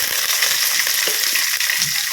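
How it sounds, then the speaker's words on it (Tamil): Steady crackling sizzle of mustard seeds, curry leaves and onion frying in hot oil for sambar, close and continuous, with occasional small pops and no voices. "கொஞ்சம் நேரமாக வறுத்துக்கலாம்."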